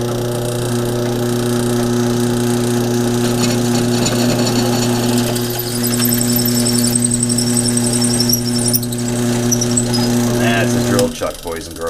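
A cheap Delta drill press boring through a workpiece, with a loud steady motor hum and grinding, scraping cutting noise that winds down near the end, while a voice talks over it.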